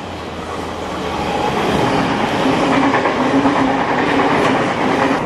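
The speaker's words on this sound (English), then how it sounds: "This intercity train is on the express tracks, which are used for interstate and country trains." An intercity passenger train runs along express tracks in New South Wales, a steady loud rumble with rhythmic clickety-clack of wheels over rail joints throughout, close by and with no voices.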